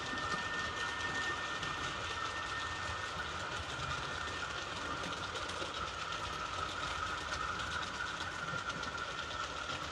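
Roco model train locomotives run on a layout with a steady, continuous motor hum and wheel rattle that carries through the whole stretch, close and even, with no voices.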